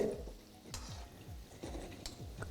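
Semolina balls for rasmalai frying in hot oil, a steady close sizzle with soft bubbling and repeated light stirring scrapes, no voices.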